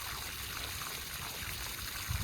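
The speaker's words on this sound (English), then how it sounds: "we have definitely got water headed down the overflow now" Steady water trickling and running down a water tank's overflow in winter, a continuous soft splashing flow, fairly faint and unbroken.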